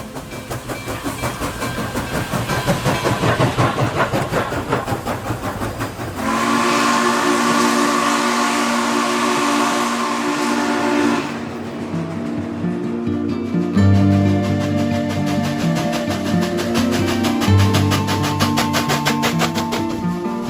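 The NKP 765 steam locomotive on an excursion run blows a long, loud steam whistle with sustained tonal blasts over the rhythmic chuffing and rumble of the moving train.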